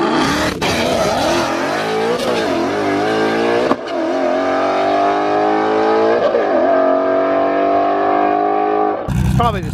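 A turbocharged, nitrous-fed Mustang or Camaro drag race car roars loud and close, its engine holding a sustained high-revving drone with shifts in pitch, then cutting to a brief burst of noise.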